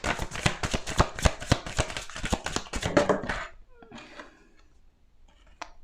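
A deck of tarot cards is shuffled and handled up close, giving a rapid run of crisp taps and riffling slaps that stops abruptly, followed by a few soft card movements.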